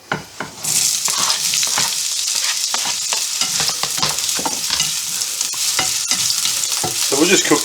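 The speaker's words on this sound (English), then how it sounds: "So we'll just fry off these onions." Onions fry in a pan while being stirred, a loud constant sizzle broken by repeated scraping and clattering strokes of the utensil, with no talk.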